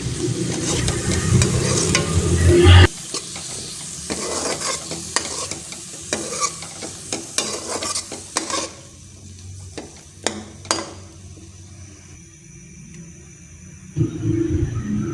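Tomatoes and green chilies frying in a pan for masoor pulao, stirred with a spoon; close scraping strokes over a steady sizzle that fades to quieter hissing and occasional clinks.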